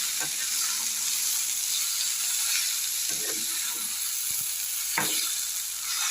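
Mango pickle masala sautéing in a pan: a steady, even sizzle runs throughout, broken by a few distinct scraping stirs near the end, close and moderately quiet.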